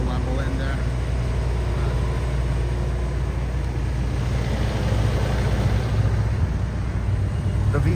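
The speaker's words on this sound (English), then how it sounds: "you can probably just hear the generator over the actual engine" A Class A RV's onboard generator drones steadily alongside its idling V10 engine, a continuous low mechanical rumble that stays even throughout, with the generator dominating the quieter engine.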